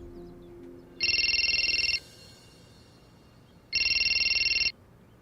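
A phone rings in two loud electronic trilling bursts, each about a second long, separated by a pause, with quiet room noise between.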